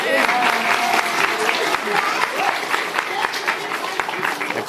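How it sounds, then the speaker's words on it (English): Applause from an audience for Cesar at a mayoral announcement event, brisk clapping with individual claps standing out, voices murmuring under it through the short burst. "Give Cesar another round of applause."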